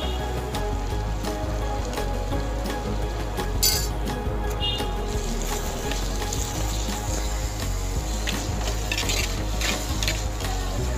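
Tomatoes with salt and curry leaves sautéing in a pan for Kerala-style fish curry, a steady close sizzle with a spoon scraping and clinking against the pan in irregular strokes, no talking.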